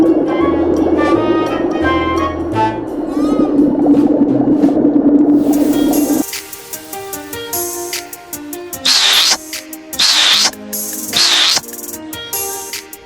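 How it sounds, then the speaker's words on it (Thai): A whale call in a children's animal cartoon sounds as a long, low, moaning tone over a watery bubbling bed, then gives way to bright chiming bursts and splashy accents in a regular rhythm. "Whale"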